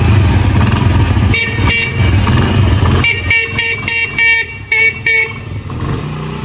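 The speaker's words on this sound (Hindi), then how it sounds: "ये जो है हॉर्न इसका ठीक हो चुका है तकरीबन" A repaired motorcycle horn sounds in close, loud honks, first a sustained blare, then a series of short, choppy toots with brief gaps between them.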